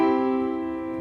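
A piano chord rings out with the sustain pedal held down, sustaining evenly and slowly fading with a full, resonant tail.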